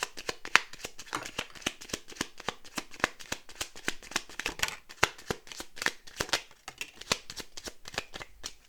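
A deck of oracle cards being shuffled up close, a quick run of crisp riffling snaps and slides repeating in bursts across the whole stretch, with no voices.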